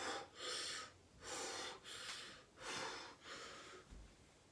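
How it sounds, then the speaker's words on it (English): Breathing in and out during a fitness exercise: about five long, loud breathy bursts in a steady rhythm, close to the listener, with no talk. "we're going to breathe in and breathe out as a tree"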